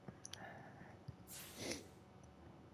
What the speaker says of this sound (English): Sorry if I'm doing sniffles.